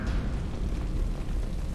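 A deep, rumbling boom from an explosion in a Mass Effect 2 cinematic, sustained low and loud for under two seconds with no voices over it.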